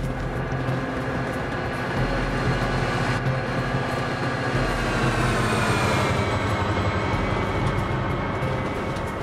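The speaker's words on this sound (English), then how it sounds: "driving a cargo train through Los Angeles City" A heavy cargo train in the game BeamNG.drive rumbles past steadily, with dense low rolling noise and a faint high metallic squeal rising midway, loud and continuous throughout.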